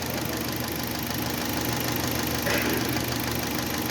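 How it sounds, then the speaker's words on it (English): A Kia car's engine runs steadily at idle, a continuous mid-pitched hum with a faint knocking texture, close and even throughout with no talk. "Get the motor running."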